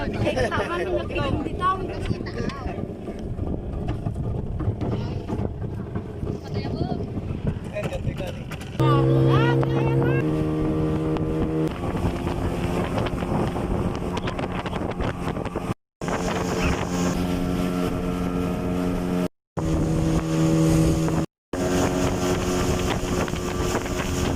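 An outboard motor drives a small fishing boat at sea during beach-seine fishing, a steady droning hum mixed with wind buffeting the microphone, with people talking over it and brief dropouts in the later part.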